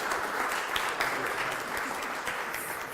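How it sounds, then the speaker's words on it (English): Audience applause at a candidate debate night, steady and continuous throughout, moderately loud from a room full of clapping hands. "let's have a round of applause"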